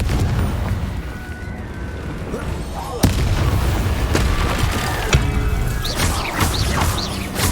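Bombarda and Confringo spells explode in Hogwarts Legacy combat, a dense, loud wash of game noise broken by sharp booms around the middle and later on, with voices shouting over the battle.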